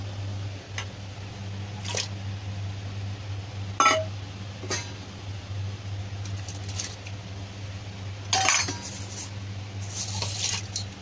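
Chinese-style lotus root soup ingredients, including lotus flowers and lotus root, dropped into a pot of boiling water, giving several separate splashes and clinks over a steady low hum, with no talking.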